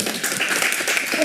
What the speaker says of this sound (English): Give them a hand clap.